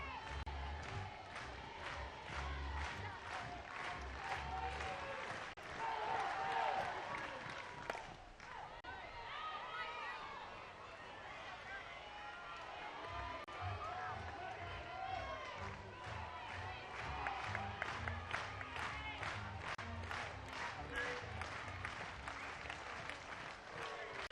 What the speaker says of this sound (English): This crowd is ready to burst.